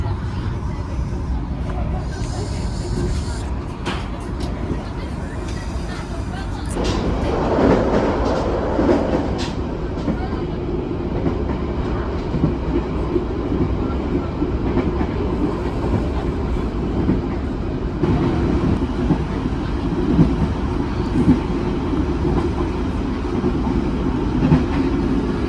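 The Malabar passenger train runs after leaving Kertosono station bound for Jogja, with a steady rumble and clatter of wheels and carriages heard from inside, a brief squeal, and occasional voices in the background.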